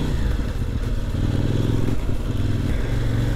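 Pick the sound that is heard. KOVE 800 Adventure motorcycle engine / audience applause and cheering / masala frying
KOVE 800 Adventure motorcycle engine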